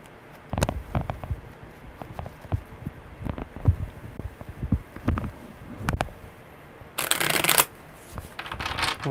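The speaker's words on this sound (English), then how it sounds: "Really good shuffles." Tarot cards being shuffled by hand in repeated riffling bursts, crisp and close, with a louder flurry near the end and faint voice in the background.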